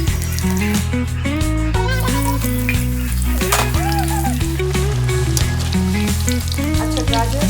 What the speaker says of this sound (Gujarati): બધા વેજીટેબલ્સ આપણે આવી રીતે ફ્રાય કરી લેવાના છે.